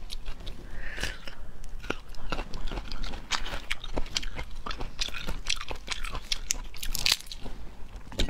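Close, crisp bites and crunchy chewing of preserved food taken from a jar, with irregular wet crunches and soft mouth sounds repeating throughout at near range and moderate loudness.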